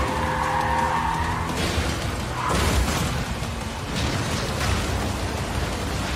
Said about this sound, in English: Now you gotta race against some ghost bike.